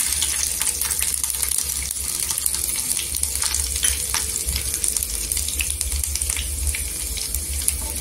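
Garlic cloves turning golden in a pan with cumin seeds give a steady, dense sizzle throughout, close and fairly loud, with faint clinks and crackles scattered over the hiss and no talking.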